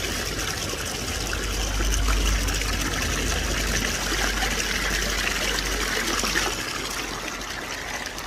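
Cold, fresh spring water poured to drink after a run, heard as a continuous loud trickle and gush of running water filling the whole clip, with no voices.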